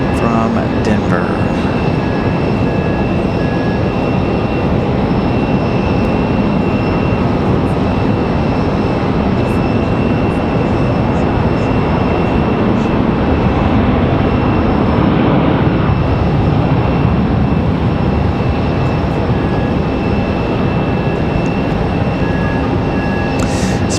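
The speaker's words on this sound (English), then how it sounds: "So United from Denver, Colorado. It's going to be that 737-8." A United Boeing 737-8 from Denver rumbles at Raleigh-Durham airport, a loud continuous engine roar with a steady whine layered on top for the whole stretch, a voice talking over it.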